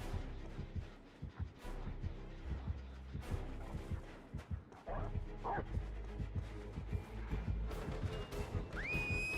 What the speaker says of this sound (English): Sound like a dog was behind me.